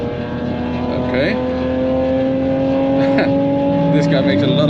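Dodge Challenger R/T V8 muscle car engine droning steadily at high speed from inside the cabin, with a constant loud hum and small gear or rev shifts, no talk.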